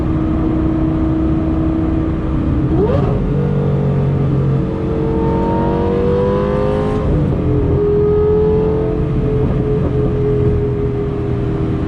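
From inside the cabin with the windows shut, a car engine revs and climbs through gear changes, a loud continuous drone with rising pitch sweeps and brief shift dips.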